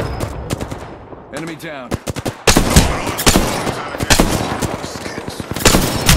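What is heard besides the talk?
longbow gunfire in a video game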